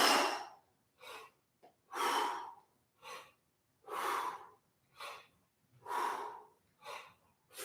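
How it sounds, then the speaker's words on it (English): Forceful, breathy exhalations come in a steady rhythm during a breath squat exercise, alternating longer blasts with shorter puffs, close and loud with silence between them. "10 more breath squats. Assume the position, exhale it out."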